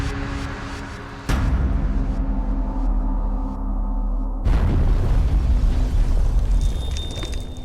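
Nuclear bomb test explosion in Nevada, sounding as a loud, continuous roaring rumble that surges suddenly and then swells again into a heavier, sustained blast-like roar with no voices.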